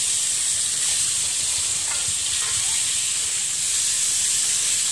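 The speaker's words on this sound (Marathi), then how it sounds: "हे पाहू शकता मित्रांनो, चिकन शिजत टाकलेलं आहे" Chicken sizzles steadily in a hot pan while cooking for a chicken masala, a continuous close hiss and crackle that holds an even level throughout with no talking.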